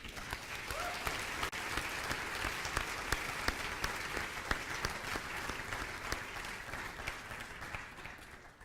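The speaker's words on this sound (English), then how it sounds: "Can we give a round of applause for all of our faculty, but especially Associate Dean Beth Toll." Audience applauding faculty at a keynote event, a sustained dense wall of clapping with crisp individual hand claps poking through, steady throughout and easing slightly near the end.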